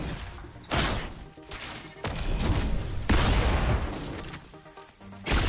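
Gunfire in the Fortnite video game: a rapid series of loud, close blasts and crashing impacts, broken by short gaps, with no talk over them.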